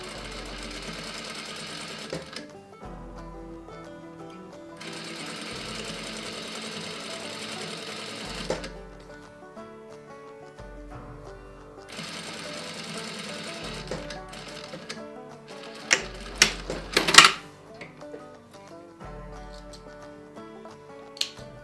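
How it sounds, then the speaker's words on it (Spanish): Sewing machine stitching a corset pattern, running in several long bursts separated by pauses, with sharp clicks and rattles near the end, alone with no talk. "Ahora abrimos y vamos a coser el otro lado."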